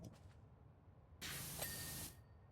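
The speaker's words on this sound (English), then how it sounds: "Just one little spray." A pressure washer in Power Wash Simulator gives one short, loud hissing spray lasting under a second after a quiet stretch with faint hiss, then cuts off.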